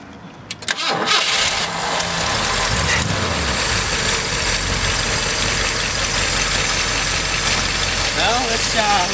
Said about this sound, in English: give us a startup and a tour of the engine